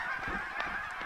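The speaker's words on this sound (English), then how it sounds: "there's so many geese over here" Geese honking in a crowded flock close by, a steady overlapping chorus of nasal honks across the whole short stretch.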